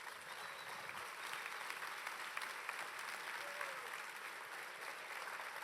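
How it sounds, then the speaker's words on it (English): A crowd applauds at the DrupalCon Barcelona 2015 closing session, the clapping soft and distant but steady and continuous throughout, with a faint hint of voices beneath it. "give some extra loud applause"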